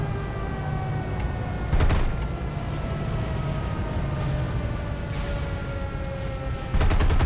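Gunfire hitting a plane in a video game comes as two short rattling bursts of rapid hits, one early and one at the end, over a steady droning engine hum with a falling whine.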